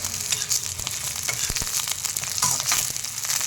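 Garlic frying in oil in a pan with the gas just switched off, giving a steady close-up sizzle with crackling pops throughout and no talking.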